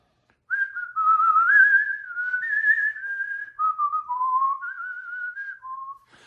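A person whistles a short, wandering melody of sustained notes, close and clear, with brief pauses between phrases and no talking.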